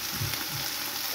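Guanciale frying in a pan, a steady close sizzle with soft spatters and a faint stirring scrape, no voices over it.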